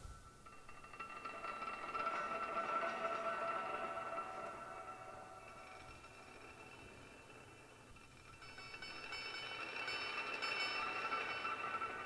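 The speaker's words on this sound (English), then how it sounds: "I kind of have it centered around some of the mechanical sounds of the piano, the scrapes and clicks and all that kind of stuff" Mechanical scrapes and clicks from an old, worn piano, processed through Native Instruments Stray Light into a continuous textured wash with steady tonal ringing, swelling at the start, dipping midway and rising again near the end, with no voices.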